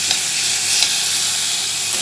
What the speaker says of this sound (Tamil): அந்த தக்காளியும் போட்டு நல்லா வதக்கணும்